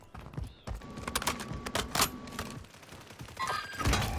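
Rapid rattling volleys of STG assault rifle fire in a first-person shooter, a dense crackle of shots running through the whole moment, with a sharp louder burst midway and more shooting building at the end.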